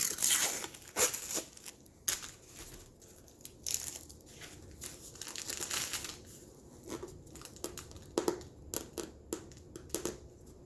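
Adhesive tape is peeled and torn off a rolled diamond painting canvas, close and quiet: irregular crinkling, scratchy tearing and plastic rustles in uneven bursts, with small handling noises between them.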